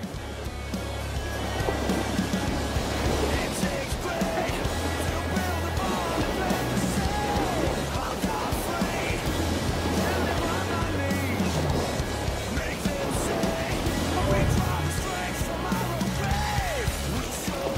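Ocean waves and rushing surf in the Surf World Series surfing video game, a continuous churning wash of water with a steady music bed underneath.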